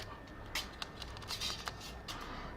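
Thick metal stabilizer bar of a Compaq MX11800 keyboard with Cherry MX Brown switches is moved and jiggled, giving a series of quick, close rattling clicks and scrapes of uneven rhythm.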